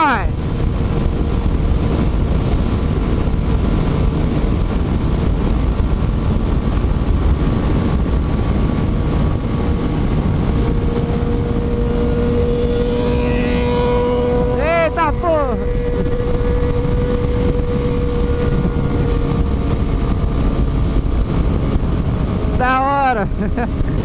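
Yamaha motorcycles, a Fazer 250, an MT-03 and an XJ6, idle outdoors under steady wind noise, with two sharp rising revs breaking through midway and near the end.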